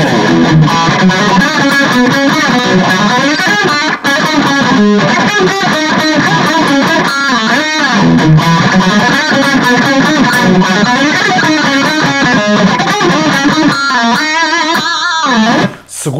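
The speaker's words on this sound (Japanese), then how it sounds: "すごい細かい歪みです" Electric guitar played through a ZOOM G2 Four effects unit on a finely grained, buzzy distortion patch, loud sustained chords and melodic lines running continuously with no spoken voice over them.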